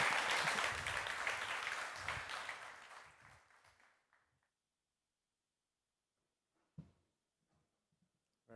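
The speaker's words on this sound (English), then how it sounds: "Would you please give Glenn a big round of applause for being here?" Audience applause at a conference session swells loud and dense, then gradually thins and fades out over about four seconds, leaving near silence broken by a few faint knocks and small sounds.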